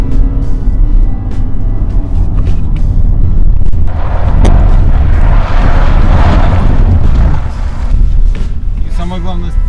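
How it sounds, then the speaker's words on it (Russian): Hyundai Santa Fe crossover sliding sideways on a test drive with the stability control not stepping in, loud roaring engine and tyre rumble with heavy wind buffeting on the microphone, building into a broad noisy surge mid-clip. "Ну, занос такой очень приятный такой, да, смачный, но он, машина не стремится развернуться."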